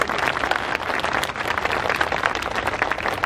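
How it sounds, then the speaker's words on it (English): An audience at the Universal Studios Japan stage show Power of Pop Unlimited gives a dense, steady round of applause. The many overlapping hand claps form a continuous wash that stays loud and even throughout. "Why don't you show us with a round of applause if you're having a good time?"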